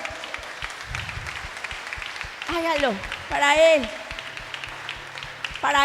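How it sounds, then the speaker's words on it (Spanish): A church congregation applauds under a loud preacher's voice that keeps speaking, with the clapping swelling briefly in the middle before the talk takes over again. "Levante una ofrenda de aplausos para el Rey."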